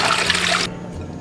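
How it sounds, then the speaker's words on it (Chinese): Chicken feet are rinsed under a running tap, giving a brief, steady rush of water that stops abruptly partway through. "剪好过后，把鸡爪给它清洗干净。"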